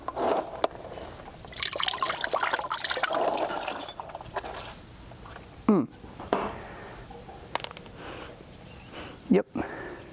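Water runs out of the pulled transmission of an old abandoned big-block Dodge truck, trickling and splashing unevenly up close, with a few sniffs and breaths and a voice heard briefly.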